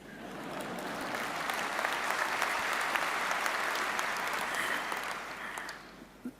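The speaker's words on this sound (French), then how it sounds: "j'ai trouvé plus cordiaux ces applaudissements plutôt que des protestations d'un autre genre" Sustained applause from an audience at the 108th notaries' congress, a dense steady patter of many hands clapping that fills the hall for several seconds before tapering off, with no voices over it.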